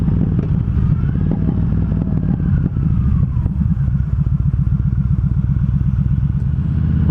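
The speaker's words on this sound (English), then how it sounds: "I'll give you an example of rev matching and I'm coming down the hill, matching it to third, my turn is here, matching it to second." Motorcycle engine revving and blipping through downshifts to third and then second while descending a hill, a loud, close, continuous engine drone with rhythmic throttle pulses.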